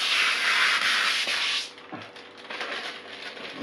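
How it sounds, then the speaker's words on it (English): Protective plastic film peeled off a part of a Ryzen 1800X and RX 480 PC build, a close, loud crackling rasp for about a second and a half, then settling into a quieter, uneven rustle. "Now let's do the very last bit, which is taking this plastic off"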